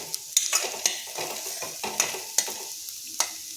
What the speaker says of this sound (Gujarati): આ રીતે આપણે હલાવતા જશું તો ગાજર આપણા ઘીમાં સતરાઈને સોફ્ટ થઈ જશે।